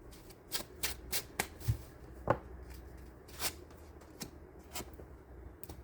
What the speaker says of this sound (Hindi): अभी मैं शफल कर रही हूँ